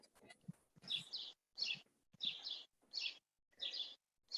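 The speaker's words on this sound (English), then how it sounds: "I can hear all the birds out there chirping away." Birds chirp outdoors in the morning in short, bright bursts, about seven quick phrases in steady succession with brief pauses between them, fairly close and clear against a quiet background with no talking.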